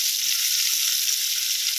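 Sliced shallots, garlic, and curly and smashed red chilies fry in hot oil for a stir-fried tofu and napa cabbage dish, giving a loud, steady, unbroken sizzle with no voices.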